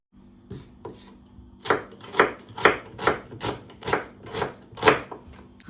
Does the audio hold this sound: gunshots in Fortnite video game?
no